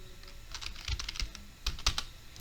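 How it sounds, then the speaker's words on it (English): Keys on a computer keyboard clatter in a short burst of close, irregular clicks and taps at moderate loudness, alone with no voices. "Then you need to type exit to exit from here."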